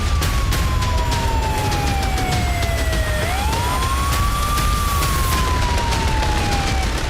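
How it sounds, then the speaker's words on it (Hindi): A wailing air raid siren in Moscow during a Ukrainian attack sweeps slowly down and back up in pitch, loud and continuous over a steady roar of background noise. "पूरे मॉस्को में सायरन बज उठे।"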